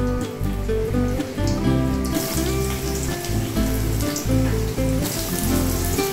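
Cut ridge gourd pieces sizzle and spatter in hot oil as they go into the pan, a steady crackling hiss that swells after the first couple of seconds, over a constant low hum.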